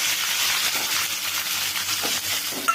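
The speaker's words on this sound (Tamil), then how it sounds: "இப்போ வந்து வெங்காயம் தக்காளி பழம் அரிஞ்சு வச்சிருக்கு கொத்தமல்லி அரிஞ்சு வச்சிருக்கு அது ஒரு வதக்கு வதக்குறோம்" Onion and tomato sautéing in a pan for a chicken dish, giving a steady close sizzle and frying hiss throughout, with a few faint stirring scrapes near the end and no talk.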